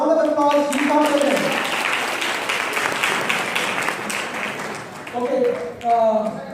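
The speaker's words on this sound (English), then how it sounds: "so round of applause she got it" Audience claps in a steady burst of applause at a Rigved Mahayajnya recognition event, with a voice talking at the start and end.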